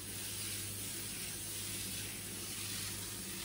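Cooking spray hissing into a baking dish before salmon goes in, one steady, soft, continuous spray that runs throughout with no talking.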